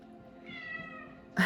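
A single drawn-out meow from a cat at a meditation and teaching talk, rising and holding clearly over a quiet room before a louder burst of noise at the end.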